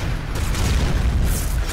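A grenade blast in the Medal of Honor video game, a deep low rumbling boom that fills the short moment and rolls on without a sharp single crack.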